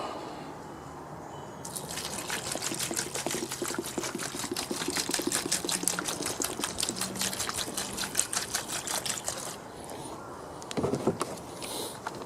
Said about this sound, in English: I'm going to soak these chains in some Evapor Rust